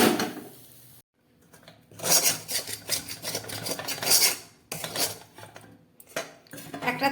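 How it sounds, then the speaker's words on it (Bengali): A metal plate is picked up and handled in a home kitchen while cooking, giving clattering, scraping clinks and rubbing against a surface in several close bursts with brief pauses and no talk. "একটা থালা নিয়ে নিয়েছি"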